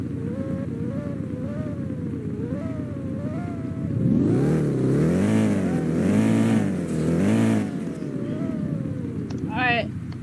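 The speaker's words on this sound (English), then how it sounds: "That car's crazy fast." Fast cars race at a Southwest Florida car show. Engines rev and whine loudly, rising and falling as the cars pass, over steady crowd noise with voices.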